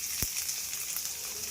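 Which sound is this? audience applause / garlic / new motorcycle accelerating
garlic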